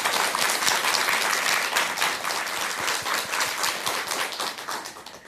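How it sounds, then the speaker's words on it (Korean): Warm applause rolls through a studio audience at a Korean Buddhist television talk program, with dense, steady clapping that fades slightly toward the end, without speech. "송혜경님께 먼저 뜨거운 박수 한번 부탁드리겠습니다."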